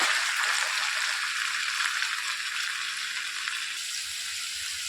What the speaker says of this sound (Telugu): ఇందులోనికి ముందుగానే కలిపి పెట్టుకున్న చికెన్ని వేసేసుకోవాలి.